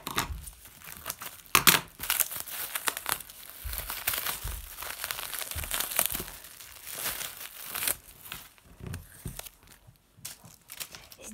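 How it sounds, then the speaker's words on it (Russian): Crinkling cellophane bag being handled and squeezed, near and fairly loud in irregular bursts with soft rustles between, as toy packaging from an LOL surprise ball is unwrapped. "Опять целлофановый пакет."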